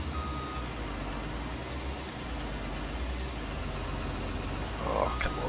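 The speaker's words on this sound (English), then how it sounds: "you can literally hear me beeping in reverse here, and the trucks and the digger and stuff across the road beeping away when they're moving" Vehicle reversing beeps in Farming Simulator 19 ring out over a steady, loud drone of truck and digger engines, with repeated beeping from machinery working across a road.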